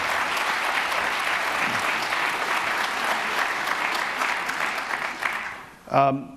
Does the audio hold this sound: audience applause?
yes